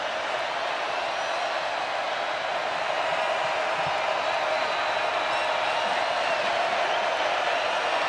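A large stadium crowd murmurs and cheers at a Georgia versus South Carolina college football game, a steady broad roar from far off that neither swells nor breaks.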